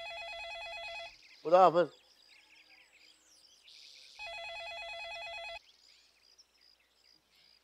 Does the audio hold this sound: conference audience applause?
no